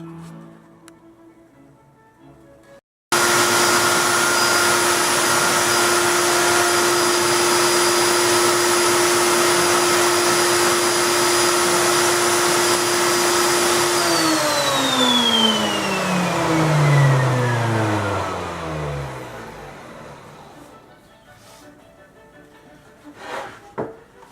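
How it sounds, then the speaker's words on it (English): A wood router rounds over the bottom edge of a tea table top with a loud, steady high whine that starts abruptly, holds for about ten seconds, then winds down in falling pitch as the motor spins to a stop. "So we're ready for the router again and round over the bottoms."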